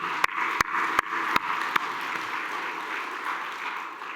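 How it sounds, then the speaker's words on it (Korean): A church congregation at a Sunday worship service in Korea applauds: steady, dense clapping at moderate level, with a few sharp, louder claps near the start, sustained throughout. "박수 한번 하십시오."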